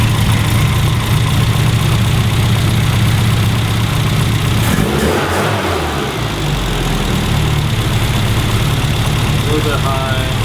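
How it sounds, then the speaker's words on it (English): Classic Mini engine idling, warm, with the vacuum advance disconnected and the carburetor idle speed just adjusted toward 900 to 1000 RPM; a steady close mechanical drone runs throughout, with a brief disturbance midway. "With the vacuum advance disconnected, the engine is running a little slow. We need to increase the idle speed."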